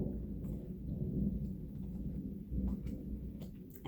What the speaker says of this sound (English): And just then there's thunder outside.